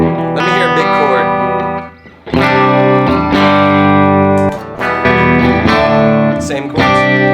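Big electric guitar chords played through a Vox AC30 amp modeler, loud and distorted with ringing sustain, strummed several times with short gaps between hits.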